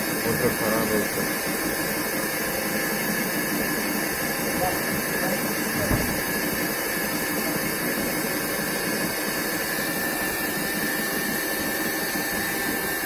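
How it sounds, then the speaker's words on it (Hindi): A worn motor bearing in an IFB Elina washing machine hisses and whirs steadily during spin, a constant loud grinding drone over the full length, with someone speaking over part of it. "ये जो आवाज़ आ रहा है मोटर का बेरिंग खराब है इसका"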